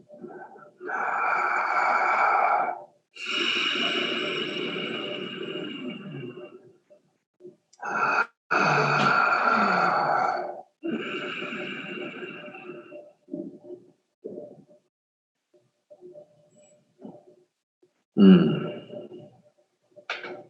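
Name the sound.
person breathing in through mouth, out through nose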